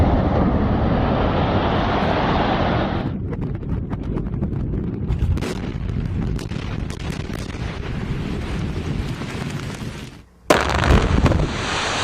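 Loud, rumbling explosions roll on continuously, with a dense blast at first, then scattered crackling bursts and a sharp final boom.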